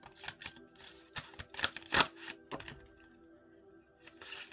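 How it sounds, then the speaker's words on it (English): Tarot cards being shuffled by hand, a run of soft riffling bursts and papery flutters with small taps, close and fairly quiet, with no one speaking. "Can't get a comfortable shuffle."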